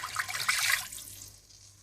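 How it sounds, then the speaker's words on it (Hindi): Water poured into frying dal masala, a short close splash and gurgle that fades into a soft trickle, with no talking. "आप इसमें 2 गिलास पानी डाल दें"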